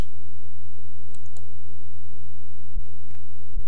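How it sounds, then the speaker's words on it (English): A few sharp computer mouse clicks, made while saving a comment, sound close up and alone over a steady low electrical hum. "And then clicking Save Comment."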